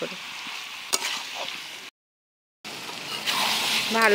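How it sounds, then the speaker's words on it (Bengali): Chopped tomatoes with salt sautéing in a pan for a meat curry, a steady close sizzle and frying hiss with a few stirring scrapes, broken by a brief silent gap before the sizzling returns louder. "খুব ভালো করে আমি টমেটো কষিয়ে নেব।"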